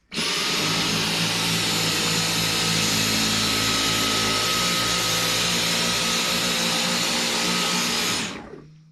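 A Dyson vacuum cleaner on its medium setting runs with a loud, steady high-pitched whine and airflow roar for about eight seconds, then cuts off abruptly at the end.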